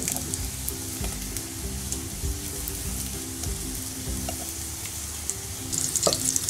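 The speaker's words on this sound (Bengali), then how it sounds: "দেখেন সুন্দর মশলা ভাজা হয়েছে" Spices fry in oil in a pan with a steady, dense sizzle throughout, close and moderately loud, rising slightly near the end with a light stir and no talk.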